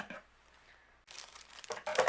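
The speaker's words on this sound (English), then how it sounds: "let me get my scissors and trim this away" Scissors snip and crinkle through a sheet of puffy craft stickers from a card-making kit, in two short close bursts after a quiet pause.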